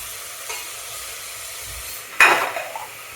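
Spring onion sautéing in a pan for dumpling soup gives a faint background sizzle, then a sudden louder burst of frying crackle as ingredients are stirred, fading over the final second.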